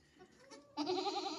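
Newborn male Teddy goat kids in a goat shed at night; after a faint start, one kid lets out a single loud, close, wavering bleat that carries to the end.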